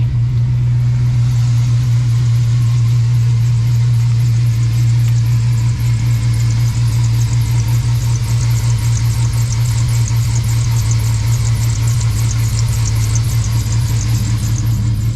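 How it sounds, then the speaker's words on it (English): An LS-swapped OBS Ford truck idling with a faint high whine from the alternator over a loud, steady low engine rumble, continuous throughout. "Got a little whining on my alternator"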